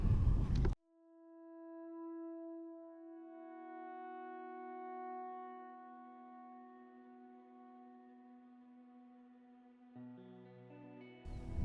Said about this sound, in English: You can hear them bellowing in the background and they're right behind me